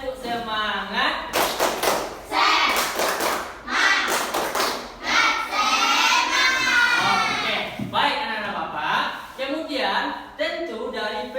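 Classroom of students doing a rhythmic spirit clap routine on a teacher's cue, bursts of clapping and thuds mixed with children's chanting voices in a loud, echoing room.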